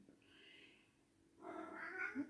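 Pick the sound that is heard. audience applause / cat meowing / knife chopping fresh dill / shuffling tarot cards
cat meowing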